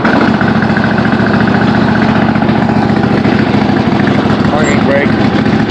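A Husqvarna zero-turn mower engine runs steadily at idle after a choked start, a loud, constant low-pitched drone with a fine rapid pulse that continues throughout.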